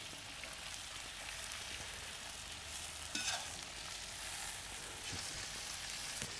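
Steady sizzling of meat frying in a large kazan cauldron over a live fire for Uzbek plov, close up, with a brief scrape of a skimmer stirring midway.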